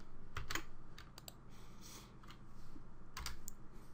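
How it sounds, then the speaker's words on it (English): Quick bursts of keystrokes on a computer keyboard as a command is entered, clicking in short irregular clusters with brief gaps, close and fairly quiet, no talking. "copying and pasting this command into PuTTY and hitting enter"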